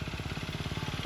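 A KTM Duke 250 Gen3 motorcycle engine gives a short, close burst of rapid, even firing pulses as the throttle is opened.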